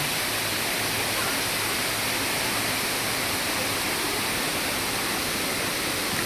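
Steady, loud broadband rush of the Sai Yok Noi waterfall in Kanchanaburi, Thailand, a continuous roar of falling water with no pauses or voices.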